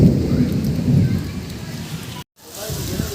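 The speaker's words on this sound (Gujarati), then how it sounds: "થઈ ગયો વરસાદ" Heavy rain pours down in Junagadh with a low rumble of thunder rolling beneath the dense hiss of falling water, briefly cutting out before the downpour resumes.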